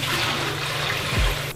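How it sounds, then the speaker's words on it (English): Old aquarium water dumped out in a loud, steady rushing pour with a low gurgle underneath, swelling toward the end before cutting off abruptly. "The rest of that water we can dump."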